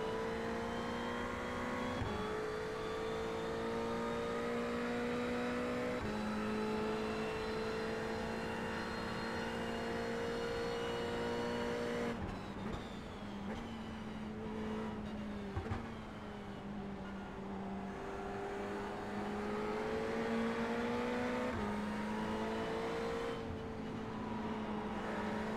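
Fixed-setup Ferrari race car at Suzuka in a racing video game, engine droning loud and steady with rising and falling pitch through gear changes, a sharp shift break midway, no talk.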